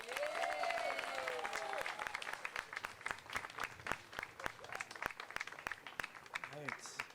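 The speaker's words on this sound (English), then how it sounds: "Please give a round of applause to Councilmember Cameron Sasai." Outdoor crowd applause at a Philippine Independence Day flag ceremony in Pinole, scattered claps from a moderate audience, fairly distant and faint, fading into sparse individual claps with some voices and a whistle-like call early on.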